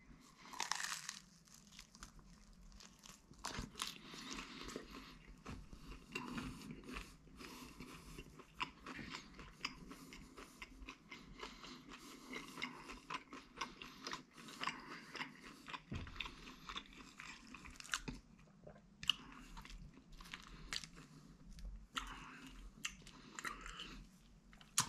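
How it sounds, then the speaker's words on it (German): A slice of oily pizza topped with cut chili is bitten into and chewed, with soft crunching and wet mastication heard close but quiet, in repeated irregular bites with no talking. "Wir beißen jetzt mal hier rein und gucken mal, was passiert."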